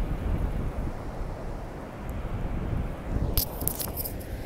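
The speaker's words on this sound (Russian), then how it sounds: "И вот он, океан. И волны такие с берега большие." Large Atlantic Ocean waves wash onto a beach in Portugal as a broad, steady roar. Gusts of wind buffet the microphone throughout, and a brief rustle comes near the end.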